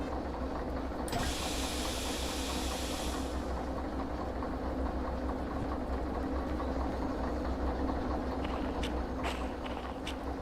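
Train in the Derail Valley game hauling a re-railed rail car at the back, a steady continuous rumble and rolling clatter throughout, with a brief hiss early on and a few faint metallic clicks near the end.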